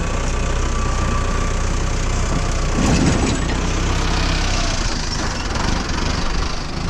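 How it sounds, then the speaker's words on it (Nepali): A Mahindra tractor engine runs steadily and loudly throughout, a continuous low rumble close by with a brief surge in intensity partway through, with no talking. "ल त गाइस अब ट्र्याक्टर चलाउने"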